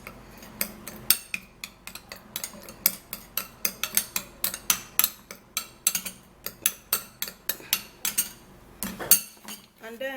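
Colgate toothpaste being stirred in a dish, a spoon or utensil clinking and scraping against it in a steady run of sharp, close taps.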